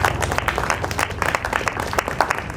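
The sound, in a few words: congregation clapping in church worship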